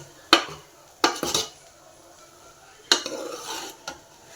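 A spoon scrapes and knocks against a pan while a mixture is stirred over a low flame, four or five sharp metallic clinks in an uneven rhythm over a faint background, no one speaking.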